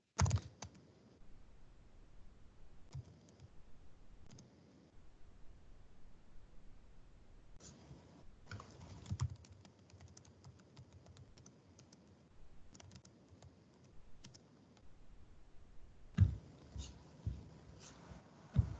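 Keyboard typing in quick irregular bursts of soft clicks, fairly quiet and close, with pauses between runs of keystrokes.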